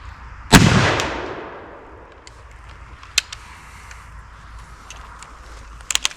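A single sharp gunshot fired with a Burton bullet cracks loudly outdoors and rolls away in a long fading echo, followed by a few faint distant clicks and thumps.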